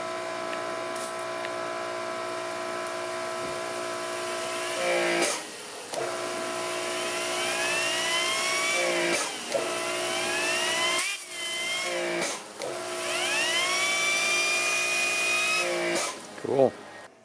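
A Ryobi 2300 pressure washer drives a sewer jetter hose with a rotating three-jet nozzle through storm drains, giving a steady loud whine with shifting pitch tones and a few sharp surges.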